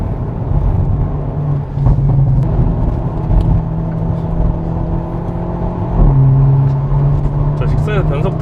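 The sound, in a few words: Hyundai Avante N accelerating and shifting gears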